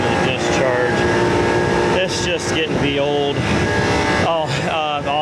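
Refrigerant recovery pump running on a chiller's filter dryer, with the liquid line valved off and refrigerant pushed back into the discharge side. The steady mechanical drone stays loud throughout while someone talks over it.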